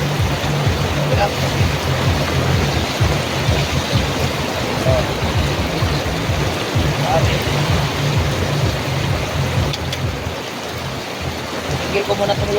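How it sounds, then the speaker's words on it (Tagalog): Heavy rain pours steadily outdoors at a street food vendor's cooking spot, a dense continuous wash of noise that holds loud throughout, with faint voices underneath. "Talagang lumalakas na ang ulan, no?"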